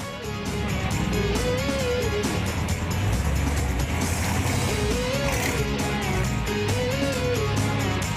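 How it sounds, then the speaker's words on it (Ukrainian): A 1959 Ford Thunderbird engine roars steadily and loudly, its pitch rising and falling as it revs, close up with no talking. "А гуркіт мотору не сплутаєш ні з чим."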